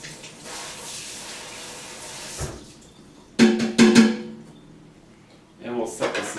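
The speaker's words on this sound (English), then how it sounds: "Usually I like to give it a quick rinse." A juicer strainer rinsed under running tap water, a short splashing burst of water hitting the mesh followed by a second spray, close and fairly loud, with quieter handling sounds between.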